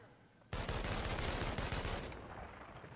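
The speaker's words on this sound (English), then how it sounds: "Who's shooting?" Loud, abrupt gunfire in the video game inFAMOUS Second Son, a rapid burst of shots that erupts suddenly and rattles on before tapering slightly.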